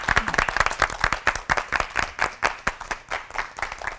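An audience claps for a pastor at a CBS TV sermon lecture, a dense run of quick, close, sharp claps that keeps going steadily throughout.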